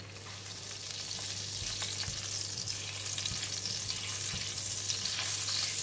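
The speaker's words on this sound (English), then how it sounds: "We're going to fry salted fish first." Salted fish frying in hot cooking oil in a pan for fried rice, giving a steady, loud broadband sizzle with a few sharper spits and crackles, no voices.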